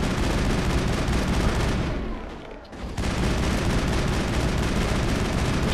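Sustained rapid gunfire from the Mass Effect video game, dense and loud throughout, with a brief lull in the middle before the shooting resumes.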